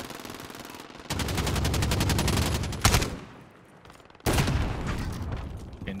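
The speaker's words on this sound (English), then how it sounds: "Shooting." Video game gunfire: a long, loud, close automatic burst, a sharp boom, a brief lull, then another sustained stream of rapid shots, with no voices over it.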